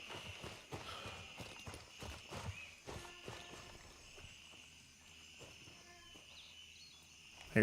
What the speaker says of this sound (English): I hear footsteps inside to our left.